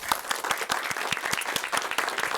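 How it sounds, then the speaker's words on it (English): Lecture audience breaking into steady applause, dense overlapping claps filling the room for a couple of seconds with no talking over it. "And well, let's give him an applause."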